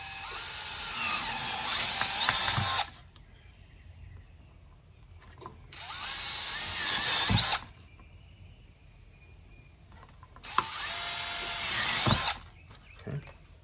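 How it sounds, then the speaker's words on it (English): Power drill boring out the centre of marked holes during a finishing-up mounting job: three loud bursts of high whining drilling, each about two to three seconds, separated by quieter pauses with faint handling noises. "I'm going to drill it out"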